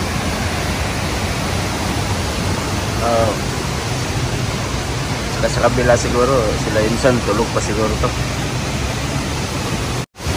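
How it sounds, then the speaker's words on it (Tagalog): Strong, fast-flowing water of the Nakatsugawa river, swollen after a night of heavy flow, rushing as a steady broadband roar throughout, with people talking over it in the middle. "Grabe, napakalakas ng tubig."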